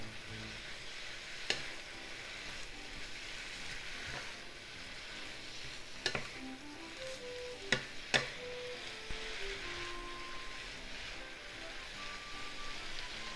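Pork and bean sprouts stir-fry in a hot pan with a constant sizzle close by. A few sharp utensil knocks cut through it, and faint tonal chirps run underneath.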